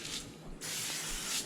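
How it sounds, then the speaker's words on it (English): Two short hissing bursts from an aerosol can of cooking oil spray onto foil, close up, with a brief pause between them. "spray just a little bit of cooking oil on the foil"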